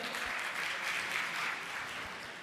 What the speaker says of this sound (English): Give yourselves a round of applause and sit down.